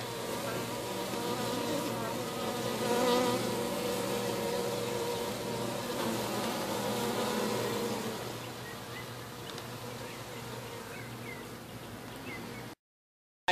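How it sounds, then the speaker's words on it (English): Honeybees gathered in a vacuum bucket during a hive cut-out removal in Haines City, Florida hum in a dense, steady buzz that swells slightly midway, then eases before cutting off abruptly. "Here's another bucket of bees."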